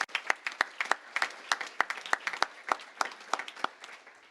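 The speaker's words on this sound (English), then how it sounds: "I wanted to give them a round of applause one more time" A crowd applauds steadily, many hands clapping at once with sharp, loud individual claps standing out over the dense patter.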